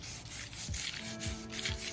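A scrub brush scours greasy Whirlpool vent hood filters in quick, steady strokes, with close, harsh bristle rasps repeating continuously without any talk.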